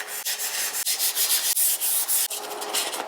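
Hand sandpaper rubbing over a Honda CRX hood vent being prepped for primer and satin trim black paint, loud close strokes in a steady back-and-forth rhythm with brief pauses between passes.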